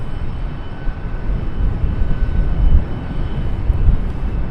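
A US Airways airliner at Charlotte Douglas International Airport rumbles with a loud, steady low engine roar that swells slightly midway, heard from outdoors with no talking.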